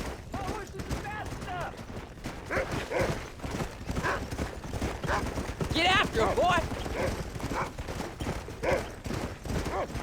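Rapid rhythmic hoofbeats of a galloping horse in the video game Red Dead Redemption, pounding steadily beneath shouted character dialogue, with scattered gunfire and a brief whinny mixed in.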